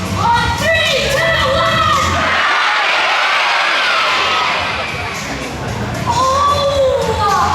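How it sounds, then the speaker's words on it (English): Large crowd of adults and children at an Australian zoo show yelling together in one loud, sustained shout, with cheering and whoops; a voice on the speaker counts down just before it, and the crowd noise tapers as it ends. "yell crikey as loud as you can for Steve Irwin"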